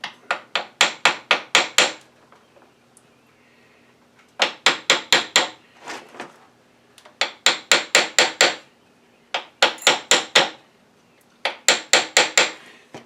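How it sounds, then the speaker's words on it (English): Rapid bursts of sharp metallic taps from a small brass hammer striking a pinned milling machine part during a Y-axis leadscrew swap, five clusters of about six to eight blows each, close and crisp, separated by near-silent pauses. "I don't know whether this little brass hammer will do anything."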